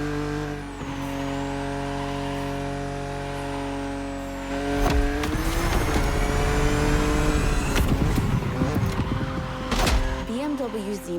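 BMW Z roadster driving in The Crew Motorfest racing game, a steady engine drone that rises as the car accelerates midway, with revving, gear shifts and engine surges continuing to the end, under ongoing talk.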